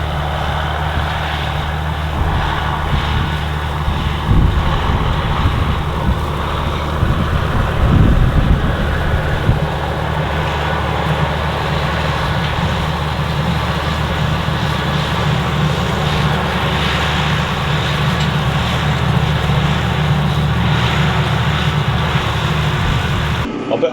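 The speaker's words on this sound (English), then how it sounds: "little old tractor, she's taking the bumps out" A brand new McCormick X6 415 tractor drives across a bumpy field while tandem cultivating, its engine a constant loud drone heard from inside the cab with rumbling and rattles throughout.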